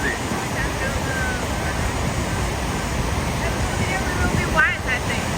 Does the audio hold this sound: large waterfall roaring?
yes